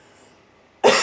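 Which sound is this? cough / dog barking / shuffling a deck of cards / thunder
cough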